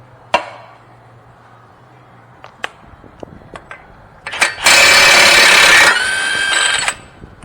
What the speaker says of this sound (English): now 32mm to take the nut off. Let me get my gun up here.